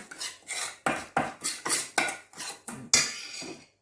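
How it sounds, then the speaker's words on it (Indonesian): Seasoned pork ribs with pepper being stirred in a bowl with a utensil, giving about eight sharp, evenly paced scraping clinks close up, each stroke a quick metallic rasp before a brief pause. "Ini diaduk rata ya."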